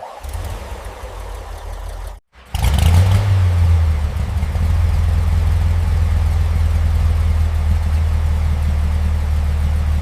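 A restored 1968 Bugatti's engine runs smoothly, a loud steady low rumble that briefly drops out, then resumes with a rev swell and settles into an even idle.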